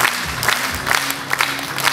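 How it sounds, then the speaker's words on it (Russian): Applause from an audience at an award ceremony marking Chemist's Day at the Kingisepp Fosforit plant: steady, moderately loud clapping filling two seconds, with a low hum underneath. "Награждение и пока что нужно аплодисменты."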